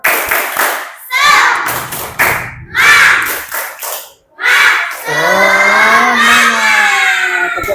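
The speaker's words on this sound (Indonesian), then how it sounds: "mari kita tepuk semangat terlebih dahulu" Fifth-grade schoolchildren in an elementary classroom chant and clap in short loud bursts, voices shouting together between rhythmic claps, ending in a sustained sung or shouted group call.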